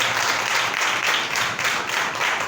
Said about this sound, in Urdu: زوردار تالیاں خداوند کے لیے بجائے، زوردار تالیاں